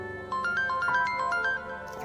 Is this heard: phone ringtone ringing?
yes